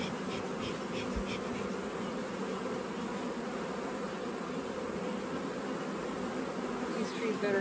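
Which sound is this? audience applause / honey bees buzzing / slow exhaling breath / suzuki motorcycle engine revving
honey bees buzzing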